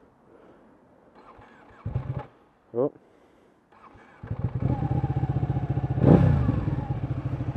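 A Ducati 1199 Panigale L-twin motorcycle has its engine started: a few brief cranks and clicks, then the engine catches into a loud, rumbling idle with one sharp rev, while a person speaks briefly beforehand.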